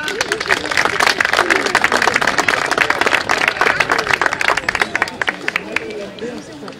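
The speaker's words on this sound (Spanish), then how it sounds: "Un aplauso para ella." Audience applause at a gathering in Araúzo, loud close clapping with distinct sharp hand claps in a rapid, uneven rhythm, mixed with crowd chatter, thinning out toward the end.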